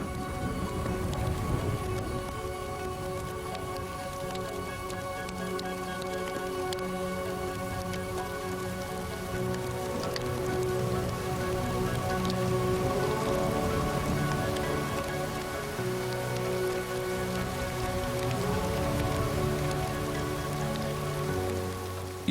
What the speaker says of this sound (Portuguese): Isto é mais que chuva